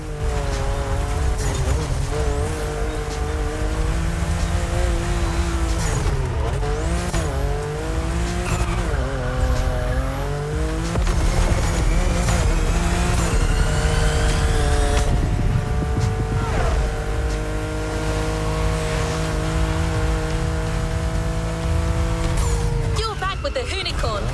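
A racing car in The Crew Motorfest, engine revving and rising through gears with squealing, skidding tires and a loud continuous roar, while a voice talks over the action throughout.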